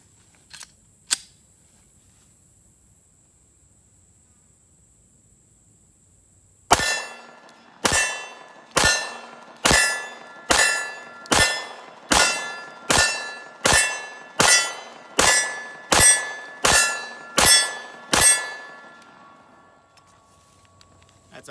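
Unsuppressed .45 pistol fired at steel targets: about thirteen loud, evenly spaced shots, each with a sharp metallic clang and ringing decay, after two faint isolated clicks over quiet.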